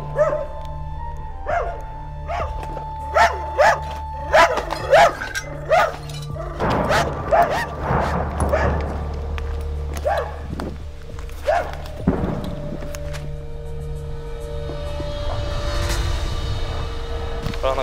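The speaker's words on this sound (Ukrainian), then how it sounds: "Дикі собаки." Several dogs roaming loose in a shelled, war-damaged town bark and yip in a series of sharp barks with short gaps, fairly close, over steady outdoor background noise, with footsteps and a whimper among them.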